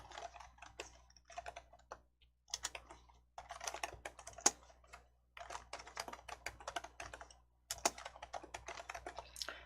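Rapid clicking of keys on a computer keyboard as text is typed, close and crisp, coming in bursts separated by short pauses, with no talking.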